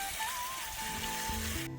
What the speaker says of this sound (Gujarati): તો હવે નાખી દઈશું પાણી.